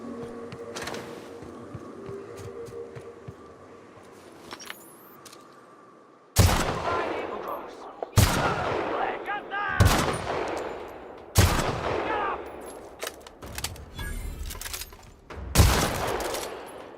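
An assault rifle fires in the sci-fi game The Outer Worlds. Quiet ambience gives way to five sharp, loud bursts of automatic fire, each spaced a second or two apart with short ringing tails.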